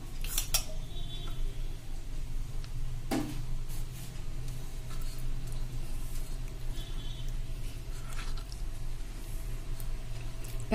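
A spoon scrapes and taps as it spreads ghee over a freshly cooked Gujarati bhakhri flatbread on a plate. Light metallic clinks and soft smearing sounds repeat close by over a steady background hum.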